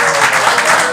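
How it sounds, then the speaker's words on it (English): A comedy-show crowd claps together in a short, loud burst of applause. "Let's clap."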